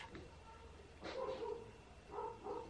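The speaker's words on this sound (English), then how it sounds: "The neighbours' dogs will not stop fucking barking." Several short dog barks from a distance, in two bursts about a second apart, fairly faint against a steady background hum.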